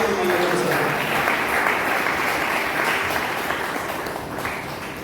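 A church congregation at a Sunday service applauds in praise of God, a thick, even roar of many hands clapping together that holds steady and eases off slightly toward the end, fairly close and full.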